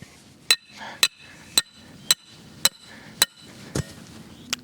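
Hammer strikes driving a metal drive rod into the ground while a boar blanket fence goes in: eight sharp, evenly spaced metallic blows about half a second apart, fairly close, over a low outdoor background.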